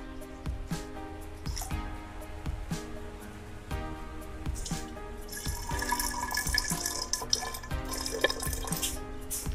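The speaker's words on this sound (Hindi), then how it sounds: "तो अब हम इस बोतल में पानी भरेंगे।" Water is poured into a bottle to make hydrogen gas with caustic soda, giving a steady, moderately loud trickle and splash with hollow glassy resonances and drips throughout, no talk.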